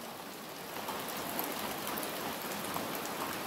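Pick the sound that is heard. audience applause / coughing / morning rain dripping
morning rain dripping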